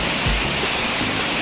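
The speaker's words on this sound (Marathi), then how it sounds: "आणि तिथून हा पुढे एक छोटा अजून धबधबा आहे बघा. पाणी इथून पडतंय खाली सगळं." A small waterfall at Susrondi near Nivoshi, Guhagar, with water pouring down over rocks in a steady, loud, close rush of white noise that never lets up.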